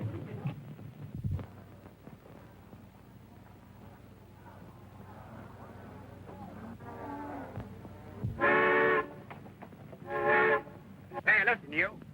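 Steam locomotive whistle in a 1929 film, several loud blasts near the end, the last ones short and clipped, following quieter rumbling and talk.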